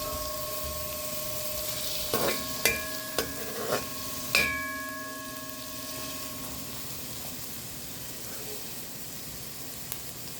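Onion and pimentos fry in hot oil in a pan for a Trinidad-style curried goat, a steady soft sizzle broken by a few clinking stirs of a spoon against the pot, with a low background hum.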